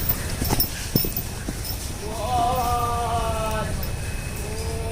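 Rhythmic hoofbeats of a horse moving at pace on a lunge line, with a few louder thuds, followed by a drawn-out whinny-like cry over the steady cadence.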